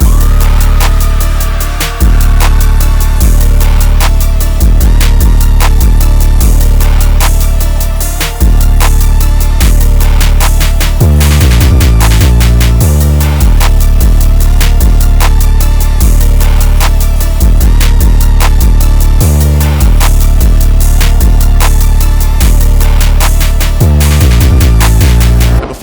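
A loud trap beat built from Deathbound drum kit sounds, with heavy distorted bass hits, punchy kicks and rapid hi-hat rolls driving a repeating synth pattern, with no voices.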